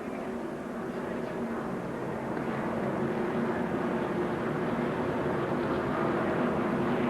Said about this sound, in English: We have a plane.